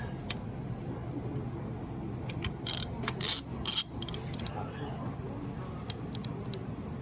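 A ratchet fitted with a 5/8 socket works on a spark plug in a 2005 Ford Mustang 4.6L three-valve engine, giving bursts of rapid clicking in short runs over a low background hum.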